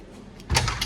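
A door thuds shut in a quiet room, one short knock followed by a brief rattle lasting under a second, no talk.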